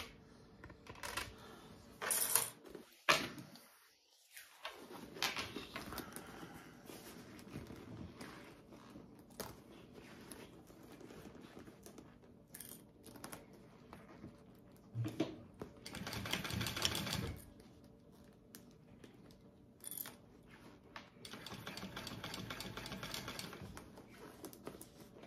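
A sewing machine bastes pieces onto a fabric bag, its quiet rapid stitching chatter coming in uneven stretches amid handling noise and faint background sounds.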